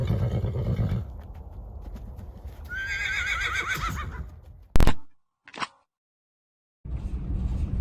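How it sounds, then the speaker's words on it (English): Horses loaded in the back of a trailer neigh in loud shrill whinnies over hoof clatter and rumbling movement, followed by a sharp bang and a short stretch of silence. "I have got 2 horses loaded in the back."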